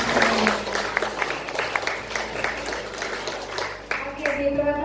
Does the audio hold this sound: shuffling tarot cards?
no